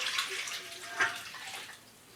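Cold water runs and splashes into a bowl of bacon brine mix, a soft steady pour that swells briefly midway, then tapers off, heard close up with no talking.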